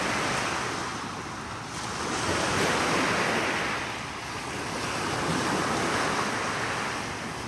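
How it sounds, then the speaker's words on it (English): Surf rolls in at Montrose Beach on Chicago's lakefront, a loud continuous wash of breaking waves that swells and eases, mixed with gusty wind buffeting the microphone. "this is Montrose Beach. Beautiful beach."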